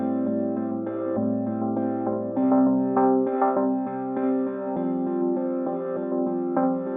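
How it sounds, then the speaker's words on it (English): A looping guitar melody plays alone with steady plucked notes, repeating phrases at moderate volume and a slightly echoey, processed tone. "We have this guitar loop sample as the main melody."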